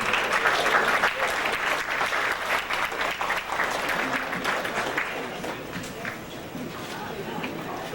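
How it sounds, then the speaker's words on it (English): An evening lecture audience gives a healer on stage another round of applause, a dense and loud burst of clapping from a crowd that slowly eases off, with some voices mixed in. "Let's give Dr. Sebi another round of applause."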